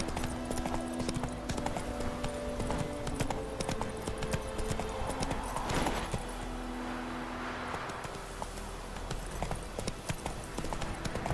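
Roach, a horse in The Witcher 3, trots with a steady clip-clop of hooves close by, mixed over a faint game ambience with low sustained tones.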